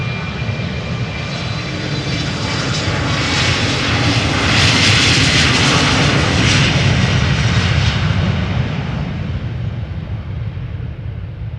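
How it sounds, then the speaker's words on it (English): A German Airways Embraer 190 jet takes off at Amsterdam Schiphol, its engines a loud, broad roar that swells to a peak midway and then eases slightly as it climbs away. "German Airways on its way to Aalborg, Embraer 190, flying for KLM SKL flight 1333"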